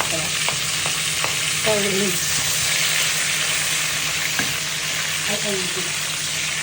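Onion and tomato sauté for Filipino-style pork steak in a pan, giving a loud, steady sizzle with occasional stirring scrapes and clinks close by, while someone speaks briefly over it.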